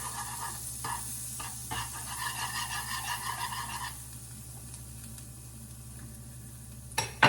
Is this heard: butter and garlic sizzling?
yes